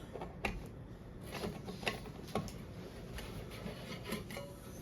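A plastic part being threaded into a homemade nano canister filter gives a close, faint run of rubbing, grinding clicks and ratchet-like scrapes with scattered sharper ticks.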